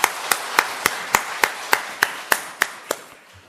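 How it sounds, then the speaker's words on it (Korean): A church congregation claps in a steady unison rhythm during a worship service, about a dozen crisp, evenly spaced claps that slowly fade out. "하나님께 영광의 박수 올려보내겠습니다."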